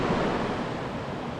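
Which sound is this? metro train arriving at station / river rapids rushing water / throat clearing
river rapids rushing water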